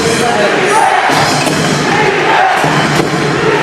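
Pampanga basketball crowd at an NBL Pilipinas finals game roaring in a loud, dense rhythmic chant with thumping surges, filling the arena without break.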